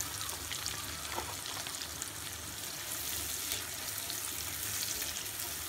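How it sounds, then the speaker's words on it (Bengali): Half a cup of chopped onion fries in hot oil in a pan while a curry of potato and country chicken is cooked, a soft, steady sizzle with faint stirring and no talk. "এখন আমি এর ভেতর হাফ কাপ পেঁয়াজ কুচি দিয়ে দিব।"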